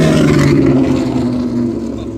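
A 1985 Suzuki GS1150 street and track racing motorcycle idles loud and close, its deep steady engine note throbbing with a harmonic rumble and a slight drop in intensity partway through.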